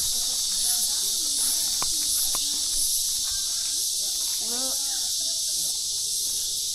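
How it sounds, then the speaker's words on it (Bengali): Crickets chirp in a sal forest along a road near Netarhat, a continuous high shrill drone filling the background while scattered other sounds and faint movement pass underneath. "আর কি ঝিঝি ডাকছে দেখো"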